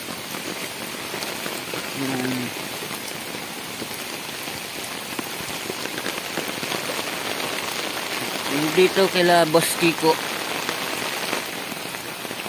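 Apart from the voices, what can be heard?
heavy rain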